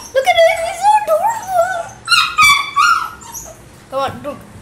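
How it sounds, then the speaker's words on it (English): A puppy whimpers and yips in high, wavering whines, several short bursts close to the listener with brief pauses between them. "my new dog Kruger."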